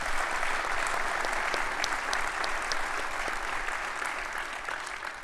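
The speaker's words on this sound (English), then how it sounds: "Huge round of applause to them, maybe?" Audience applause after an invitation to applaud at a tech community talk, a steady dense wash of clapping throughout, fading slightly toward the end, with no talking over it.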